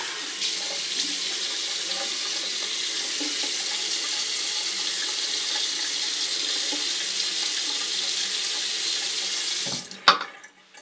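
Tap water running steadily into a sink for rinsing during a razor shave, a close even rush of water lasting about ten seconds before it cuts off with a brief clunk.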